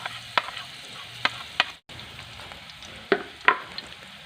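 Garlic is added to hot ghee in a pan for a vegetable omelette, with soft sizzling under a few sharp spoon scrapes and stirring clatters, close and intermittent.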